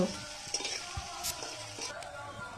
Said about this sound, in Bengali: কড়াইতে সর্ষের তেল গরম করে কুচানি পেঁয়াজ, রসুন, চিংড়ি মাছ, শুকনো লঙ্কা দিয়ে ভালো করে ভাইজি নামিয়ে নেব